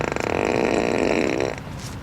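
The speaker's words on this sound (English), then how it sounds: "I'm gonna fart at you." A synthetic fart noise blasts from the external megaphone speaker of a 2025 Tesla Model S Plaid, one long loud buzzing raspberry lasting over a second before trailing off, with no talking.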